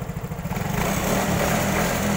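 A hot Yamaha Mio scooter engine runs steadily up close, a buzzing, lawnmower-like drone that starts with a slight pulsing and then evens out into a constant loud hum, with no talk.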